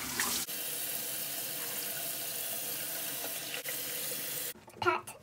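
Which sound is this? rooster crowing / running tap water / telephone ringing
running tap water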